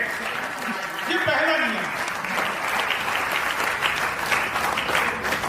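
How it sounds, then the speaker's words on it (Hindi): Audience at a Hindi comedy poetry gathering breaks into continuous, full applause, thick clapping running the whole length while someone speaks briefly over it early on. "आपको तालियां बजानी है।"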